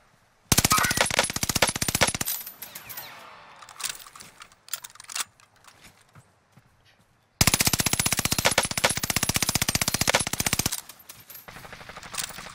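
Automatic weapon fire in the video game Call of Duty: Modern Warfare: two long, loud, rapid machine-gun bursts separated by quieter scattered shots and game effects, with no talking.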